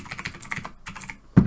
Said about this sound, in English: Oh, do you hear that typing?